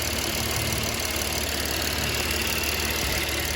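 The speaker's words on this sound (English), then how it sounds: "I'm gonna go rev it just to put some pressure on these." Engine of a 2011 Cadillac SRX with 120,000 miles, after a thermostat replacement, running with a steady, dense, close engine roar throughout, with no talk.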